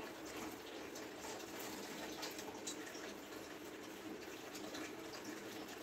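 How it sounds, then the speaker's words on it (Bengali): Water poured from a cup into a cooking pot for prawn pulao, a steady, even rush of liquid filling the pot without pause, close and moderately loud with no voices. "7 কাপ জল দিলে হতো, কিন্তু আমার ওখান থেকে জল বেরিয়েছে বলে আমি 6 কাপ জল দিলাম।"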